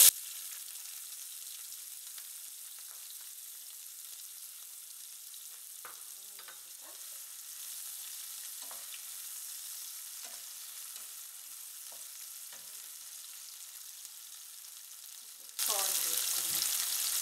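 Drumsticks and peas fry in a pan with a faint, low sizzle broken by scattered scrapes and clicks of stirring, while someone speaks briefly; the sizzle swells sharply louder in the final seconds.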